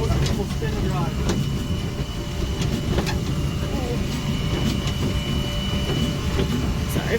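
Steam locomotive hauling a heritage excursion train on wet track, a steady close rumble with rattling and clanking of cars and occasional sharp metallic clicks, with people talking faintly underneath.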